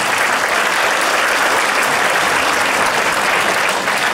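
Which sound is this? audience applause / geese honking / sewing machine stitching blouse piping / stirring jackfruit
audience applause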